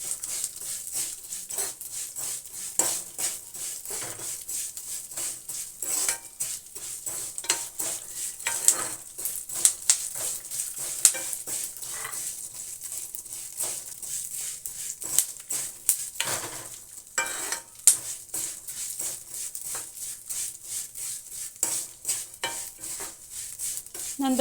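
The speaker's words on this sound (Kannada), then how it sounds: "ಒಣ ದ್ರಾಕ್ಷಿ, ಎಳ್ಳು ಎಲ್ಲವನ್ನು ಹುರ್ಕೋಬೇಕು." Raisins and sesame seeds are stirred and roasted in a pan for sweet jaggery semiya kheer, with a constant soft sizzle under irregular scraping and clinking strokes of a spoon against the metal pan, close and fairly loud.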